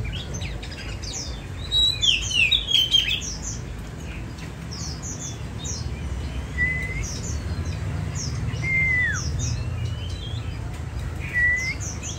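Oriental magpie-robins sing outdoors in a series of bright, sweet whistles and chirps, some phrases rising or sliding, moderately close, over a steady low background rumble, with no talking.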